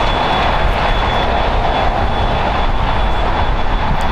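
Steady, loud jet engine roar of a Korean Air Airbus A380 taxiing nearby at LAX, a constant broadband rumble with a thin high whine running throughout.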